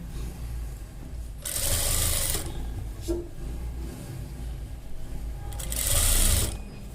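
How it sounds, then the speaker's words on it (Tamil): A sewing machine stitches fabric while beginner tailoring is being taught, running in two short rapid bursts of close mechanical clatter separated by a quieter pause. "லைட்டாக கொஞ்சமாக கிராஸாக கொண்டு வாங்க, தையில கிராஸாக கொண்டு வந்து அப்புறம் ஸ்ட்ரெயிட் ஆக்குங்க."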